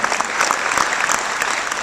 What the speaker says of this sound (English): A little round of applause would be great for that if you don't mind